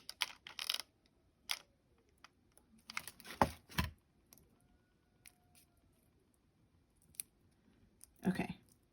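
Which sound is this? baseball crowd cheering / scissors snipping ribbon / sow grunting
scissors snipping ribbon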